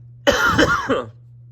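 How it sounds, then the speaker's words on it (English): A single close burst of harsh coughing, a few rapid hacks lasting under a second, then quiet. "Excuse me, sorry about the coughing there."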